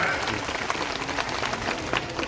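Loud, dense crowd applause at an outdoor political public meeting in Hardoi district, welcoming speakers; steady clapping fills the whole stretch with a voice mixed in.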